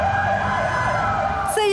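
Medical evacuation vehicle siren wailing loudly and close with a warbling rise and fall over a rumbling engine, briefly cut by a sharp higher tone near the end.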